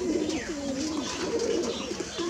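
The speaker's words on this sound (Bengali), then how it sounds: "এখানে অনেক ধরনের কবুতর আছে। গিরিবাজ, কালদম, ঘিয়াচল্লি" Giribaz pigeons on a crowded pigeon farm give continuous overlapping low coos, close and steady, over a busy background of wingbeats and faint chirps.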